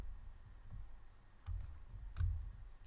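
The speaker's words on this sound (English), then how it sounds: "So I'm just control clicking them from the screen." Computer mouse clicks while control-clicking objects on screen in FreeCAD, a few faint sharp clicks spaced apart over a quiet background, with no talking.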